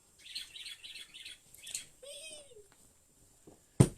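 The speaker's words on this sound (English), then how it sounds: "Can you put a cover over the bird? He's driving me nuts." An indoor pet bird gives repeated shrill chirps and squawks in quick bursts, fairly close, followed by a sliding whistle-like call and a sharp knock at the end, while someone talks softly in the room.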